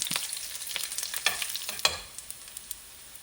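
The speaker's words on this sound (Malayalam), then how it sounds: "കടുക് പൊട്ടിച്ച് കഴിഞ്ഞ് രണ്ട് വറ്റൽമുളക് ചേർത്തു" Mustard seeds, dried red chillies and sliced shallots sizzle and crackle in hot oil for a Kerala prawn curry, with stirring scrapes and sharp pops close up, fading toward the end.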